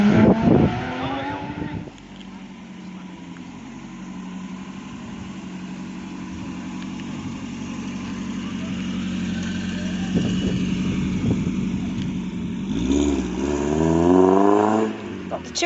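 A Ford car engine idling with a fluttering note, then revving and accelerating away at a car meet, loud and close, with other engines nearby and people talking over the sound.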